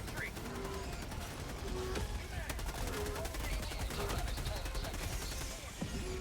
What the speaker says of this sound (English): Machine gun sentry.